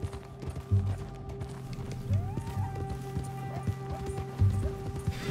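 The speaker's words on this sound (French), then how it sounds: "J'y vais à dos de cheval, à dos de canasson." A ridden horse gallops in Red Dead Redemption 2, with rhythmic heavy hoofbeats repeating every couple of seconds over a background game score. A voice talks faintly now and then.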